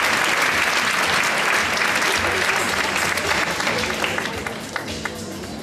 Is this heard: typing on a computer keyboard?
no